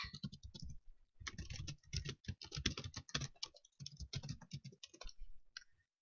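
Rapid, close computer keyboard typing, dense clattering keystrokes in quick runs with short breaks, fairly loud and clear with no talk.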